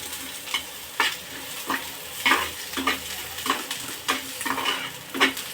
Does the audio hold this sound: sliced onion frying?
yes